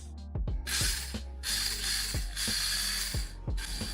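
Small metal-geared gearbox of a WPL D12 RC car whirring with a buzzing mechanical drone, broken by repeated clicks and brief pauses as the motor starts and stops, close by.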